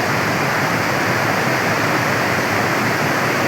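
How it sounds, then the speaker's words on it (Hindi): A fully opened canal bypass sends water rushing out fast, making a loud, continuous, close roar with no voices over it. "इस पानी की स्पीड आप देख सकते हैं, कितनी ज़बरदस्त आवाज़ निकल रही है।"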